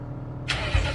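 A car engine starting in a car video game, a sudden loud crank that catches into a rumbling idle.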